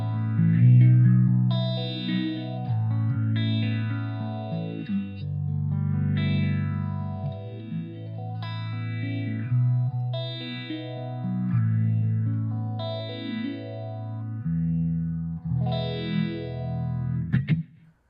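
An electric guitar played through preset effects on a Line 6 Spider V amp rings out in lush, chorused and distorted chords and melodic phrases, sustained and continuous throughout with no talking.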